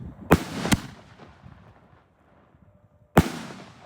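Srpyro Kick Boxer and Power King 48mm firework cakes firing outdoors: three sharp, loud bangs, two close together near the start and one after a quiet gap of crackling fallout.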